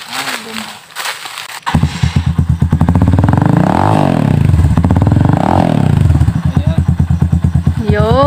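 A 2020 Rusi Classic 250 motorcycle idling close by, a loud, steady thumping single-cylinder rhythm that rises into a couple of revs before settling back to idle, with brief clatter at the start.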